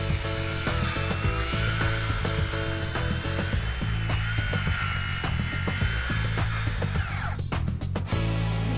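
A small power tool cuts wooden pieces for a miniature bench. The cutting is a steady, continuous whine that runs close and loud, and a few crackling bursts come near the end.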